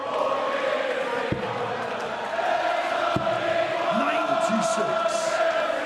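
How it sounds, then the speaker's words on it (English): A Blackpool darts crowd roars and bellows in support of Phil Taylor, a steady loud wall of cheering with a few thuds and a voice rising over it near the end. "Crowd getting behind Phil Taylor"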